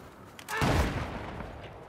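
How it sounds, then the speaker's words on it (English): A single deep boom of mortar artillery fire in a video game, sudden and heavy, then a rumbling tail fading over the following second. "Oh, they moved their mortar system up."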